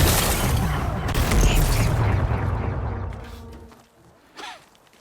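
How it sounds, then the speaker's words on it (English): Rock-blasting explosions in Horizon Forbidden West: a loud, booming detonation rumbles for several seconds, then fades into debris and settling noise, with a brief sharp burst near the end. "Gotta blast away some rocks so I can expose it's working! It's exploding."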